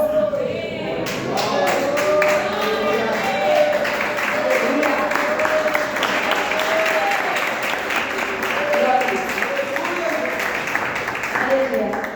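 A church congregation claps hands together in praise, a dense, steady wall of applause filling the room for the whole stretch while a voice speaks over it.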